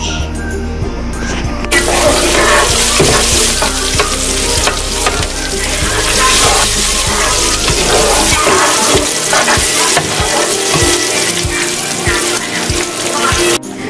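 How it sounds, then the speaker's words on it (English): Steady, loud sizzling of onions and garlic frying in hot oil, with occasional stirring clatter, continuous throughout and close by. "did you hear the sound of cooking the onions and the garlic?"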